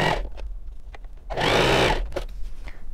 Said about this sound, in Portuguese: Agora, eu vou costurar aqui e aqui.